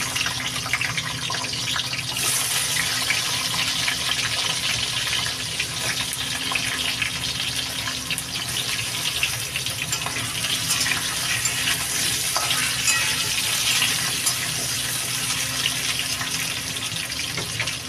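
Potato pieces fry in hot oil in a home kitchen, giving a steady, dense sizzle that hisses evenly and close by for the whole stretch, with no voices over it.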